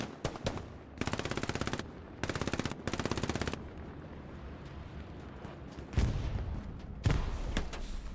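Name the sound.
gunfire exchange in the video game Hell Let Loose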